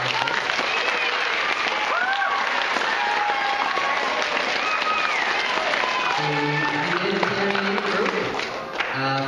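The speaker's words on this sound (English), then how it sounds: "Okay, give them a round of applause." Loud, sustained applause from an audience at a debate event, a full round of clapping with voices and crowd chatter mixed in underneath, and a steady tone in the background.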